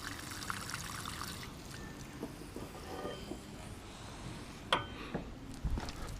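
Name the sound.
water trickling out of car moonroof drain holes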